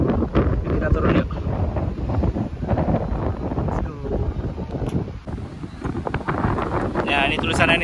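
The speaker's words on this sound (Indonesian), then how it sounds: "anginnya kenceng banget" Strong wind on the hilltop of Pulau Drini above Drini Beach, Gunungkidul, Yogyakarta, buffets the microphone with loud, continuous rumbling gusts that rise and fall over the whole stretch.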